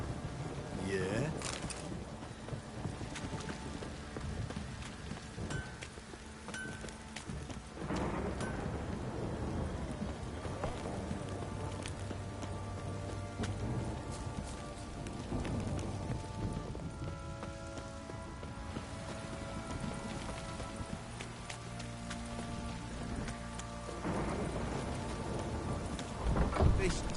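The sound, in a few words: heavy rain downpour in The Witcher 3 video game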